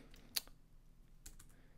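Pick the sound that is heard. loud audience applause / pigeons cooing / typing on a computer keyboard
typing on a computer keyboard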